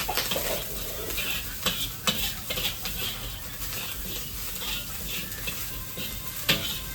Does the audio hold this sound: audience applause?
no